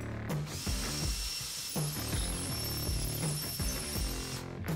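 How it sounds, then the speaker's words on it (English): A power drill bores into a wall for mounting a floating desk, its whining motor running loud and close with slight shifts in pitch as the bit bites, continuous for several seconds and then stopping briefly near the end. "But first I need to go ahead and drill."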